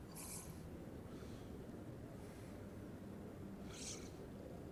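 Cat purring softly up close, a faint continuous low rumble, with a few brief high bursts of sound standing out above it.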